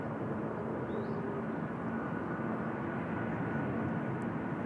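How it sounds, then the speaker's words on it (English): Rolls-Royce Trent engines on a Boeing 747 at Seoul Incheon Airport make a faint, distant, steady jet roar with no talk. "There we go, the beautiful sound of the Rolls-Royce Trents."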